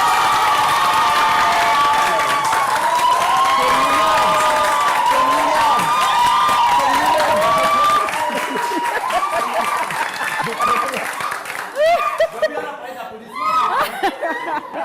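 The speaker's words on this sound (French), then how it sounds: "Si vous pensez que ce sont les sexy stars qui ont le mieux dansé, vous applaudissez très fort." Audience at a dance contest applauding and cheering for the dancers, loud whooping and high ululating cries over clapping, then thinning into scattered claps, laughter and chatter toward the end.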